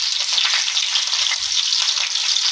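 Garlic and green chilies fry in hot oil in a pan for a Marathi brinjal bhaji, a loud, steady crackling sizzle with faint stirring scrapes underneath.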